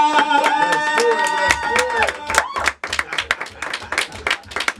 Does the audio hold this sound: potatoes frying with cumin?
no